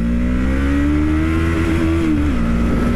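An FKM Falcon X400 motorcycle engine revs during a rev-matched downshift, a loud, close, continuous drone that rises and then dips briefly.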